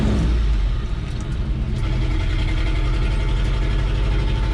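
A 1976 Chevrolet Scottsdale K20 4x4 pickup, back on the road after 20 years, drives with a steady, loud low engine rumble and road noise throughout, no talk.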